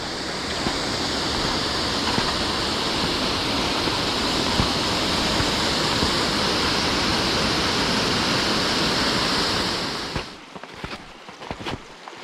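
A mountain stream or waterfall on Monte Fumaiolo in snowy terrain rushes loudly and steadily up close, then cuts away near the end to quieter handling sounds.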